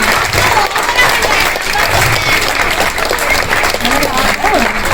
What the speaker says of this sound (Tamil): நல்ல கைத்தட்டல் கொடுக்கலாங்க, கமான்.